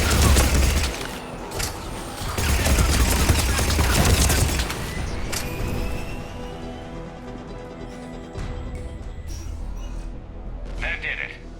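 Busy combat in the video game Mass Effect 3: dense bursts of gunfire and impacts, loud and continuous for the first few seconds, then thinning into scattered shots and effects, with voices speaking over the action.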